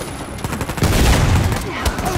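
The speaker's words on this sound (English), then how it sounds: "Someone is shooting from the opposite side, I believe." Gunfire from the video game Uncharted 4 A Thief's End, a dense burst of rapid shots and booms that swells after the first second and keeps rattling, loud and close, with a player talking briefly over it.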